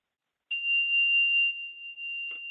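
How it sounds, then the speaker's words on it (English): A mindfulness bell struck once during a guided meditation gives a clear bright ring that sustains and slowly fades over about two seconds, heard alone in a quiet room. "And I'll just ring the bell once more."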